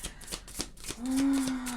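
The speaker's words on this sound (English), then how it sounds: "shuffle the oracle cards all at once now" A deck of oracle cards shuffled by hand: a few quick papery riffles and soft slaps up close, followed by a brief low tonal hum.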